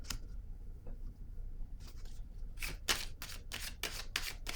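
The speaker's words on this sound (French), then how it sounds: "je vais piger une autre carte" Tarot cards are drawn and handled from a deck in a quiet room, starting with faint soft rustles and ending in a quick run of sharp, close card flicks and shuffles.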